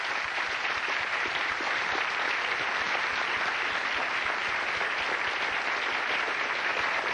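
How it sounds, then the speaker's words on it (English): A television talk show studio audience applauds in a continuous, even roar of clapping, dense and bright with no pauses, steady in loudness from start to finish. "Give him a round of applause or send him back there."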